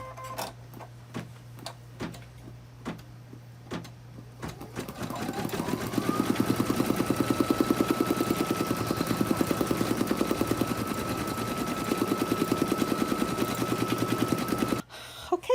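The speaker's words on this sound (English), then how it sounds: "that is finished embroidering, so I can bring it out of my machine" An embroidery machine stitches free standing lace, starting with a few isolated clicks before settling into a steady, rapid mechanical rattle of needle strokes with a faint whine, loud and close, then stopping abruptly near the end.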